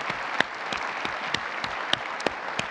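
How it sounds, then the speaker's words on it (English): A conference audience applauds a panel at a general session with steady, moderately loud clapping, a few sharper claps standing out above the crowd. "One more round of applause for our panel."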